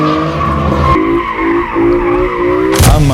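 A BMW i8 slides sideways, its engine holding a steady droning note under a continuous tire squeal, with a sharp louder screech near the end.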